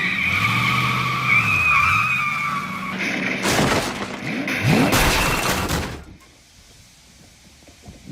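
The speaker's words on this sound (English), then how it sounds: "when she drunkenly takes Roger's car out for a spin" Car skidding in a TV drama scene of a drunk woman joyriding in a borrowed car, with squealing tire slides over engine noise for about six seconds, followed by loud thumps and a quieter tail.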